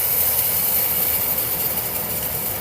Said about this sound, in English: And we are frying Spam.